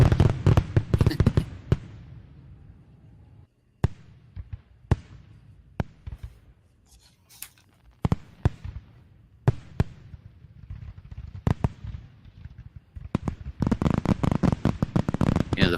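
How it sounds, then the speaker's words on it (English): Fireworks sound effect: scattered sharp bangs and crackling pops, dense bursts at the start and end with sparser single reports between, loud and close, no speech. "Yeah, the fireworks sound is cool."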